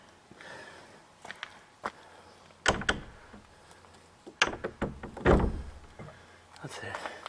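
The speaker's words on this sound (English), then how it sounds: "Or close the door." A door at a Celtic peace garden shelter is handled and pulled shut, giving several sharp knocks and thuds between quieter rustling, close to the camcorder with a person's breathing in between.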